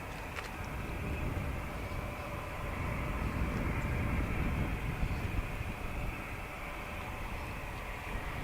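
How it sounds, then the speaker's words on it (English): An Aer Lingus Airbus A320 departs Dublin Airport, a steady, broad jet roar heard from a distance that swells slightly toward the middle and holds without pause. "This Aer Lingus A320 is off to Lanzarote."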